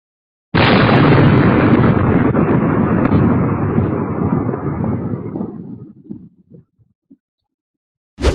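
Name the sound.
explosions from drone strikes on military targets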